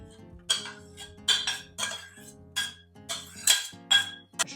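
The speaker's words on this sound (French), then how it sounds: "je rajoute mes courgettes" Roasted courgettes are added to a salad of white beans and tahini in a bowl. Close, bright clinks of a utensil against the bowl come in an irregular series of about eight, with soft scraping between them.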